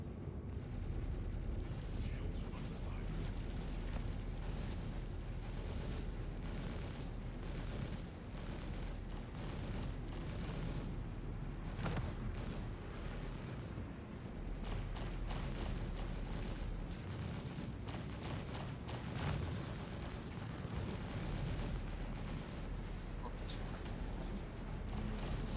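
Missiles launch and explode in Star Citizen amid a continuous roar of gunfire and mechanical rumble, with repeated sharp blasts and a dense, loud battle texture running the whole way through.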